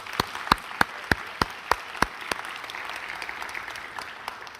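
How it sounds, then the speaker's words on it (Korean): A church congregation claps in praise during a worship service, starting with sharp, evenly spaced rhythmic claps that give way to a denser wash of applause, with no talking over it. "우리 그 하나님 앞에 영광의 박수 찬양하시겠습니다."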